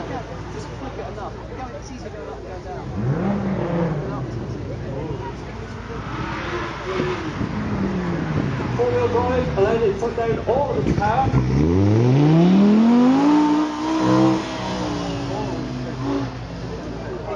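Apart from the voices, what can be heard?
previous generation Audi R8 V10 engine revving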